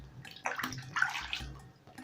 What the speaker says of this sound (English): So I'm going to wash this about 2 or 3 times till the water is clear